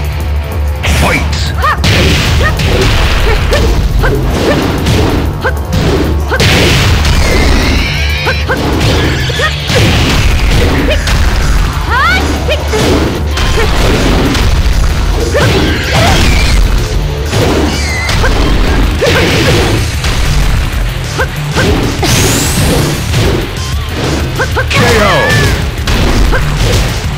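Tekken 8 match, Asuka versus Asuka: a steady, loud stream of punches, kicks, smashes and whooshing strikes crowds in with game music and effects, no pauses, for the whole round.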